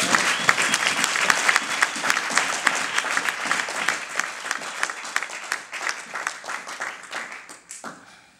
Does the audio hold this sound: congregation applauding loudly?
yes